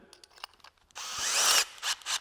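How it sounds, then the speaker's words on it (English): Bosch drill driver boring into wood, a few brief motor taps followed by a loud, close, whining bite into the timber lasting under a second, then two short bursts as the trigger is pulsed. "but just the fact that this is just a drill driver."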